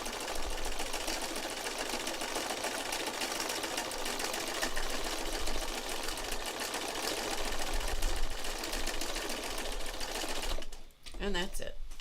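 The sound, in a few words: sewing machine stitching fabric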